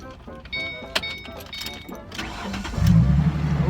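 A Mustang car's engine cranks and catches near the end, settling into a deep, close rumble after a stretch of door and cabin handling noises, with a voice speaking over it.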